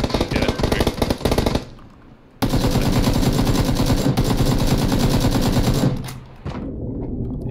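Sustained automatic gunfire in the battle royale game PUBG during a third-person squads match, loud rapid bursts that stop briefly, then resume as a long continuous volley before tapering off.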